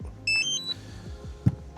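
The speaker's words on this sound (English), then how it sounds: "So press and hold it, and it should start beeping" A DJI RC Controller 3 powering up: a short series of high electronic beeps chirps in quick succession near the start, followed by a quiet hum and a soft click.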